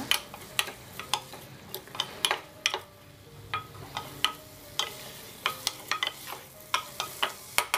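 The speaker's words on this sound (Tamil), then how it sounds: "இப்போ கொஞ்சம் இஞ்சி பூண்டு விழுது போடணும். நல்லா வதக்கிக்கோங்க." Ginger garlic paste sautés in a pan for pav bhaji masala, a soft sizzle under repeated sharp taps and scrapes of a spoon stirring, close and moderately quiet.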